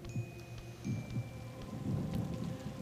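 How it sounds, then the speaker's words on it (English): Thunderstorm heard from indoors in the Dementium video game, steady rain hiss with low rumbling thunder swelling in several soft waves, muffled and moderately quiet. "you can hear the storm outside"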